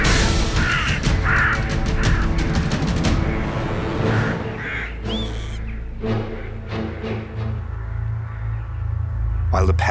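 A crow caws in a few harsh repeated calls in wild spring countryside in Wales. The calls sit in a busy mix of other birds and steady background noise, with a voice talking over part of it.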